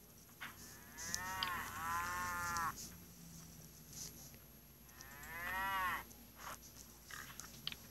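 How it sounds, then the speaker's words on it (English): Cow mooing in the video game SurvivalCraft, two long drawn-out moos separated by a pause, clear and moderately close over faint ambient game sound. "You must be the female cow that produces milk."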